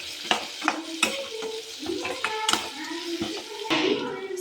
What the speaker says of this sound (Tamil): ஸோ இப்போ இது கூட நம்ம குட்டி குட்டியாக கட் பண்ணி வச்சுருக்கிற கேரட்டு பீன்ஸ் ரெண்டையும் சேர்த்துடலாம். சேர்த்துட்டு நல்லா கலந்து விட்டுருங்க.